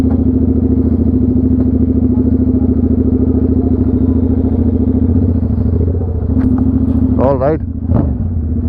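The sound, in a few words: Royal Enfield GT 650 motorcycle exhaust sound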